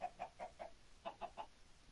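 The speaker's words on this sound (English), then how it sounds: "And then these are the chickens." Video-game chickens in a fantasy village-building game, a quick series of soft, faint clucks in two short bursts, alone with no talk.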